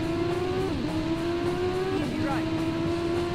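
A rally car in the PS1 racing game V-Rally 97 Championship Edition accelerates, its engine whining steadily upward through gear changes, loud and close, with someone talking over it.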